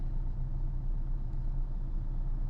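A car's engine rumbles steadily as it slows and brakes toward a stop in Chennai city traffic, a constant low, loud drone with no distinct squeal or other break.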